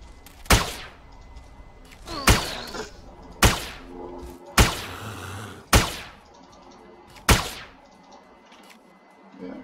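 Gunfire in the Entropia Universe video game: six sharp, separate shots spaced about a second apart, each with a short ringing tail, over a quiet background.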